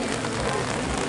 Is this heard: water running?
no